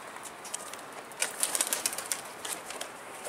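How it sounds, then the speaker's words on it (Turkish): Pigeons flap their wings while someone chases them with a washbasin. Quick bursts of fluttering come in an uneven cluster at close range over a steady hiss. "Leğenle, insafsız adam leğenle kuşları kovalıyor."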